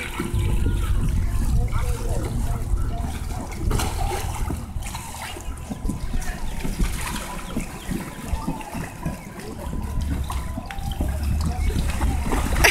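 Water splashing and sloshing inside inflatable water balls at a Florida zoo, with repeated splatters and trickles close by, while children and adults talk and shout throughout.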